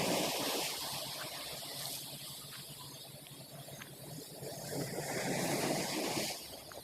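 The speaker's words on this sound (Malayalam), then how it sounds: "നല്ല തിരമാല ഇട്ട് വന്ന്" Sea waves wash in along the shore during sea fishing off Kozhikode, a broad continuous roar of surf that swells and fades, mixed with gusty wind noise on the microphone.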